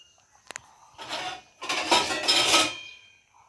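Metal lid placed on a cooking pot: a couple of quick clinks, then a longer scraping rattle as the lid settles, close and clear with no talking.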